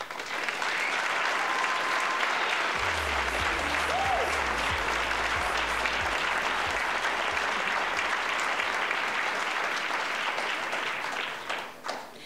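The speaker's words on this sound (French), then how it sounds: "qu'on donne une bonne main d'applaudissements à l'équipe de secondaire en spectacle" A school audience applauds at a local secondary-school talent show final, a dense, steady wash of many hands clapping that stays loud throughout before easing off at the very end.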